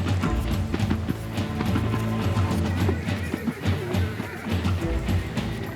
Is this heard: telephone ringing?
no